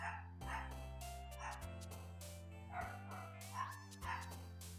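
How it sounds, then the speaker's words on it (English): Dogs bark outside, faint and distant, in a few scattered yips and barks beneath loud game music with a repeating melody and steady bass. "And the fucking noisiest dogs outside."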